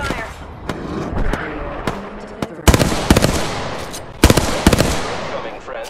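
Sharp gunshots crack out in Apex Legends, scattered single shots at first, then loud close bursts of rapid fire, with game sounds and voices underneath.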